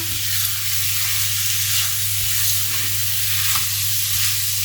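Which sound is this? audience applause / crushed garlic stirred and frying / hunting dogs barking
crushed garlic stirred and frying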